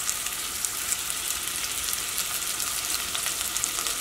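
Curry leaves sizzle in hot oil while frying with fish roe in a home kitchen, a steady bright crackling hiss with tiny pops, close and continuous, no voices.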